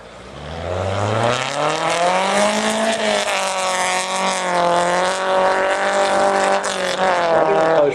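Rally car engine on a forest stage under a WARC/CC event, revving hard with rising harmonics, then easing off throttle as it descends a hill, loud and close with a steady roar throughout.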